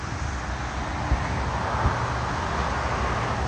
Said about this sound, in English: Sorry about the noise, but that's the M1 motorway for you.